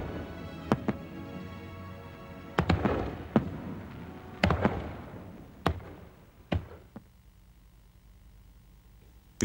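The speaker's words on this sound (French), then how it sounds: "Les feux d'artifice, avec leur bruyante explosion de feu et de lumière" Fireworks go off in a string of sharp, loud explosive bangs at irregular intervals, several followed by crackling and fading rumbles, ending in quieter tails.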